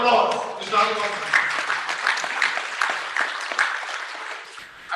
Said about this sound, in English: Please, a round of applause, Mr. Halim Osman